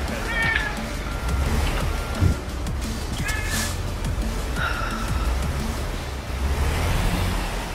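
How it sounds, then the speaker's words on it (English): A cat meows loudly and repeatedly in short, separate calls over a steady low rumble of a truck engine in American Truck Simulator. "Screw off, cat!"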